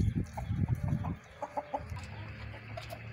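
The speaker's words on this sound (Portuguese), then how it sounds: "O frango aí, vocês podem ver aí." Giant Polish breed chickens, about sixty days old, cluck and murmur in short, soft bursts close by, with a few sharper chirps and faint background noise and no one speaking.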